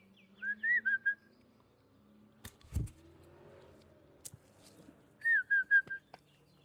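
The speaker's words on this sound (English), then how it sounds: "So I kind of whistle to them." A person whistles to call orioles at a garden feeder, giving two short bursts of quick chirpy whistled notes at the start and end, with a faint car passing and a few clicks in between.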